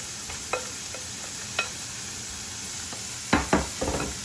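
A spoon stirs mushroom soup in a pan: soft sizzling under scattered scrapes and taps, with a cluster of louder clatters near the end; no voices.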